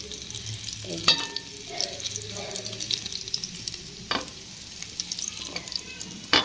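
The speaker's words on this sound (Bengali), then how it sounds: "ভর্তা করলে একটু লাল লাল করে ভেজে নিই" New potatoes frying in a pan for bharta, a soft sizzle with occasional stirring clinks and scrapes, close and moderately loud with no talking.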